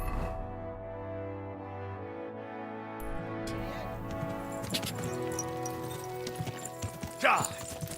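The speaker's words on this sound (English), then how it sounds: "Easy, good horse." Hooves clip-clop from a horse in the video game Kingdom Come: Deliverance II, a moderately paced series of thuds under steady in-game music and ambience, with a brief louder burst near the end.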